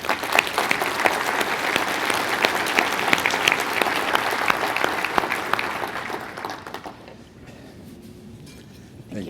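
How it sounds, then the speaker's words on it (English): Audience applause at an annual luncheon, a dense burst of clapping from a crowd that gradually thins and fades to a few scattered claps. "let's give a round of applause for Geronimo."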